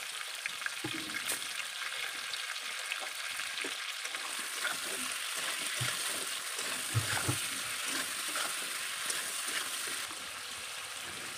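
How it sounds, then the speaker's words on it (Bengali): Ridge gourd and potato pieces fry in a pan while being stirred, giving a steady broad sizzle with scattered scraping clicks and knocks throughout, no voices. "দিয়ে এবার আমি সবজিটাকে ভালো করে নাড়াচাড়া করে নেব প্রায় 1 মিনিটের মতো।"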